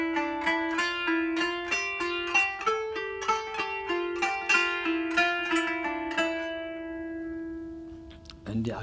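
Kanun melody plucked with the raise technique: a sequence of bright, ringing plucked notes in a steady rhythm, each with a sharp attack and a sustained decay, played solo and close, fading out near the end.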